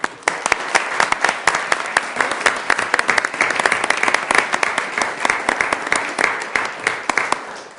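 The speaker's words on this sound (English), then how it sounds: "we'll give you just a round of applause." Audience members at a Sioux Falls city council meeting applaud Boy Scouts in attendance with sharp, close claps that form a lively, uneven burst and carry through to the end, tapering slightly.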